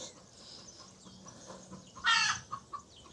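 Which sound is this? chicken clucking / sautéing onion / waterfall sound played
chicken clucking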